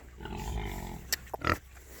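Pigs root up a winter garden with soft grunts and snuffling, then a few short louder grunts near the end, close by against low outdoor rumble.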